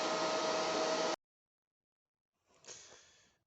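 The front cooling fan from an Antminer L3+ crypto mining machine roars with a loud, steady rushing whoosh for about a second, then cuts off abruptly. After a pause, a softer burst of airflow rises and fades.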